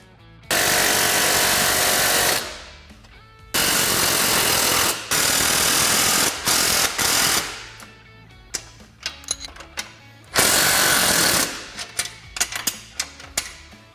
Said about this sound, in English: we're just going to go through and fully tighten all the hardware